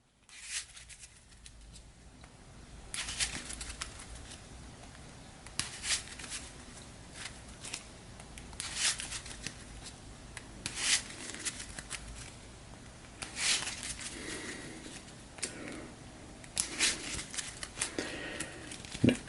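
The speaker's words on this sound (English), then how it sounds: "We'll give the rest of her deck a shuffle." A deck of cards for a Harry Potter Hogwarts Battle board game is shuffled close by, quiet repeated riffling and soft snapping bursts spread across the stretch against a hushed room.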